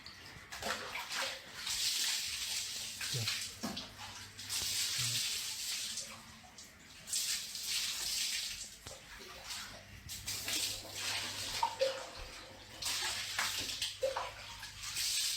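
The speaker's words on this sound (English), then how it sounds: "Who's taking a shower?" Water streaming and splashing in bursts, like a shower running, with pauses and some quiet background rumble.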